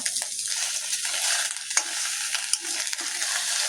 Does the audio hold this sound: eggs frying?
yes